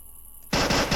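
A sudden loud burst of rapid gunfire erupts from near silence in a zombie shooter video game, sustained and close, after a faint electronic hum.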